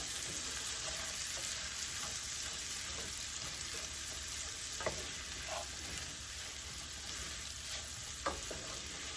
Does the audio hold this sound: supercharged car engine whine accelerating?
no